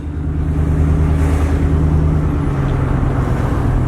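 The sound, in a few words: rebuilt single cab Chevrolet Silverado pickup driving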